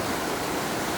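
Steady broadband rush of a river flowing beside a campsite in Inyo National Forest, a continuous close, even wash of water with no voices.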